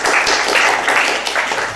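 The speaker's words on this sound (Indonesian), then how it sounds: "tepuk tangan untuk kelompok 2" Classroom audience applauding a student presentation group, a dense, steady burst of clapping from many hands, close and fairly loud throughout.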